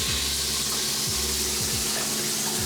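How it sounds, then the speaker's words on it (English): Shower water running steadily and loudly while hair is washed, a dense continuous hiss with low gurgling pulses underneath and no talking. "Let's get in the shower."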